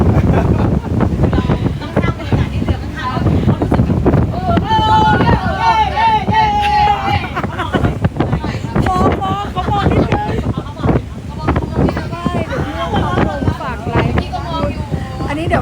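A boat carrying four or five people moves across the water while wind buffets the microphone with a loud, rumbling roar. People talk continuously over the wind noise.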